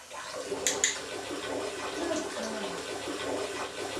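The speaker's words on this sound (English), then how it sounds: "a stronger flow from the faucet" Water runs steadily from a bathtub faucet into the tub, a soft continuous splashing hiss heard from a short distance, with a brief clink early on.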